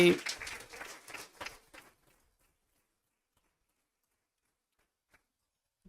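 An audience at a Christian sermon claps together in a quick flurry for about two seconds, then the room falls silent.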